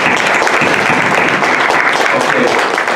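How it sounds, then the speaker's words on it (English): Audience at a Black History Month kickoff celebration gives a round of applause, dense, steady clapping filling the room at full volume throughout. "Give them a round of applause."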